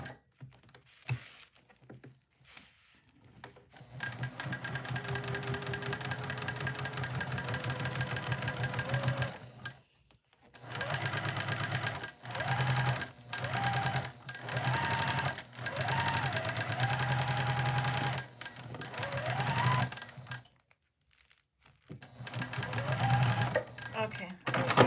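A sewing machine bastes the back of a fabric panel to foam, running in close, loud bursts of rapid stitching separated by short stops, with a voice talking in between.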